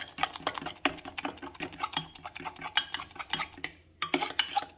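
Pancake batter whisked briskly in a bowl, rapid clinking and scraping strokes of utensil against the dish in a quick irregular rhythm, close and fairly loud throughout.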